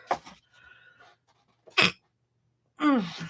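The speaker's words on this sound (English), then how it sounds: "hold on, I'm about to sneeze" A single sharp sneeze bursts out between short stretches of quiet breathing and faint rustling, followed by a brief vocal exhale.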